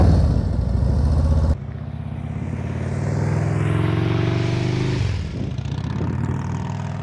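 Motorcycle engine at slow speed during a turning practice, its rumble dropping abruptly, then a steady mid-range drone rising and falling as the clutch is let out, close and loud, no talking.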